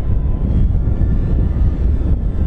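A Dynam Spitfire Mk.Vb RC float plane flies in gusty wind, a distant engine drone buried under heavy, steady low wind rumble.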